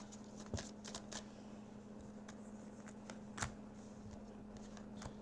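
Playing cards are shuffled and drawn in a quiet room, with a run of soft crisp flicks and snaps scattered across the moment, close and faint, without any voices.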